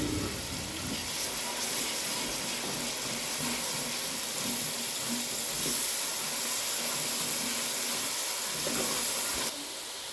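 Yogurt stirred into frying masala for an aloo anda bhujia, a steady loud sizzle and bubbling hiss that runs without a break, with no voices.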